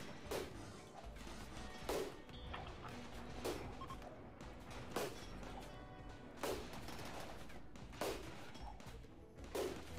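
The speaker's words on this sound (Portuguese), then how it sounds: "Olha o tanto de tiro que esse bicho tá tomando." Gunfire in the Rimworld video game against a tough mechanoid, a series of sharp shot bursts repeating every second or two over a continuous rumbling battle din, moderately faint.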